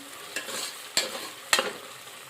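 Curry leaves frying in oil in a home kitchen, a soft sizzle punctuated by three or four sharp spatters and pops, close and fairly quiet, no talking.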